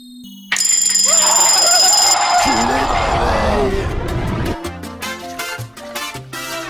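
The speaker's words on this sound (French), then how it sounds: "c'est le réveil matinal" A morning alarm clock rings loudly and continuously for a few seconds, then cuts off. A few scattered short sounds follow.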